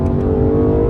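A Lexus LC 500 at full throttle, its engine note loud and steady throughout a short one-second burst of hard acceleration, with dense low-frequency roar and no speech.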